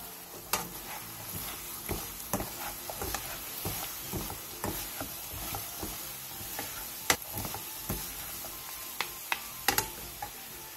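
Minced garlic and plum extract simmering down in a side dish, giving a steady soft sizzle broken by frequent stirring clicks and taps, close by with no talk.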